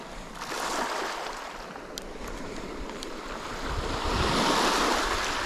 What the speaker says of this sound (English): the waves here, they're really weird